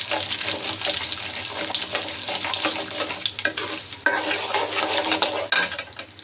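Cumin and mustard seeds fry in hot oil, a close, busy crackling sizzle mixed with stirring and scraping against the pan, swelling and dipping unevenly.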